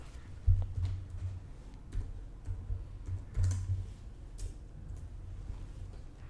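Keys clatter on a computer keyboard in quick, uneven bursts with short pauses, close and fairly quiet, while someone types a word into a supplier setup form in accounting software.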